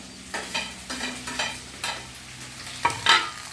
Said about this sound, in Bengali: আজকে তো বিনসের পরিবর্তে আমি এখানে বরবটি দিচ্ছি